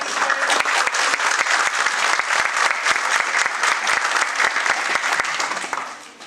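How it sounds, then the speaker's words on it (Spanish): A seated audience claps steadily after a talk at a union school session, a dense burst of applause that fades away at the end. "podríamos agradecerle con otro aplauso más, por favor"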